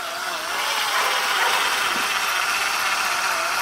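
A power drill boring a sap tap hole into a maple tree winds down, its whirring motor slowing under a steady, fairly loud broadband hiss with no talk.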